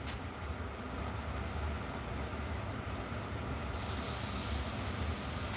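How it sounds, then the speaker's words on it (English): Water sizzles and boils on a hot fire, a dense, steady hiss that swells slightly partway through, heard close up with no voices. "Y'all hear it? Y'all hear that sizzle?"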